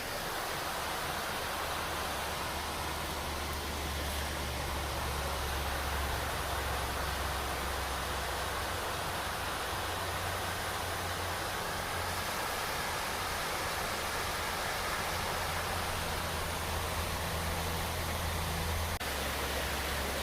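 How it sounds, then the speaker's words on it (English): Waterfall of about 60 feet on a Pennsylvania hiking trail, water rushing in a steady, loud broadband roar that fills the whole stretch without pause. "the sounds of the water drowns out Interstate 81"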